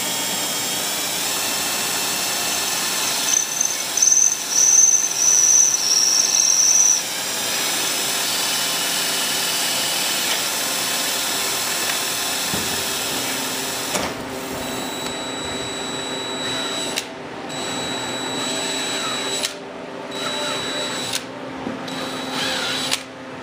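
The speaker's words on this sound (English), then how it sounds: "Drill our guide holes" Steady, loud mechanical whirring of a power drill boring guide holes for bolts while mounting a car radio, running continuously, with a few brief pauses and pitch shifts near the end; no speech.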